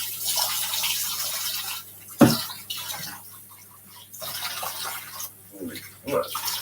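Running tap water splashes and hisses into a sink while dishes are washed with soap, steady and close with brief pauses, a clatter, and a cough or voice breaking in now and then.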